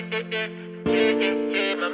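Synth chord progression in beat-making software jumping up one octave, a low sustained chord with pulsing bright stabs, then a louder, brighter voicing entering midway, close and clean with no talking.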